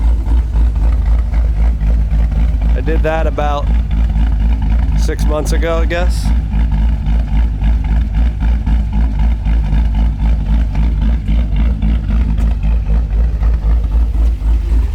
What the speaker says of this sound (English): Obviously, you can tell by the sound she's cammed.